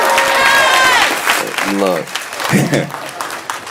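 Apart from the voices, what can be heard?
audience cheering and applauding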